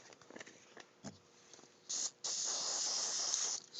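A short hiss from a hairspray can, then a longer steady spray of about a second and a half, close by, after faint rustling, fixing model railroad scenery.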